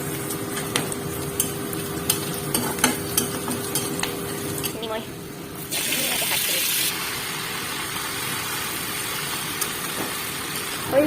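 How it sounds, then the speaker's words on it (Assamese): Panch phoron, chopped onion and two green chilies frying in a pan make a continuous close sizzle with scraping stirs, a brief louder burst of hiss midway, and background noise throughout. "পাঁচফোৰণ অকণমান দিছোঁ পিঁয়াজ দিছোঁ তাৰপিছত জলকীয়া দুটা কুটি দিছোঁ এনেকৈ এতিয়া সেইখিনি ভাজি ল'ম মই ধুনীয়াকৈ"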